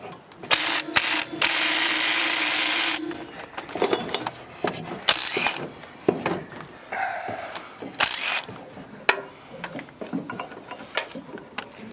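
A power tool whirs for about two seconds loosening rusty head bolts on a 1947 International KB3 truck engine, followed by scattered clicks, clanks and ratcheting handling sounds at close range.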